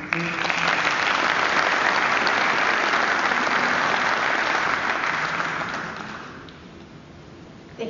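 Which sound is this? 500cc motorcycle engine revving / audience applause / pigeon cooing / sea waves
audience applause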